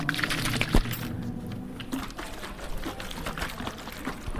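Water poured from a bottle, a steady liquid splash and trickle running for several seconds at moderate level, with no talk over it.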